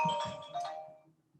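A phone sounds a short, bright chime that rises and then fades away, heard near a backyard grill during a summer cookout.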